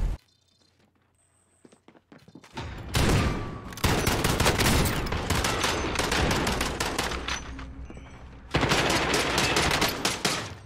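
Sustained automatic gunfire from a gun in Call of Duty Warzone rattles loud and close in long rapid bursts after a quiet opening, with a brief pause before a final burst.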